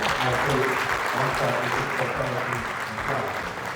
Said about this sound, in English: Can we please give them applause?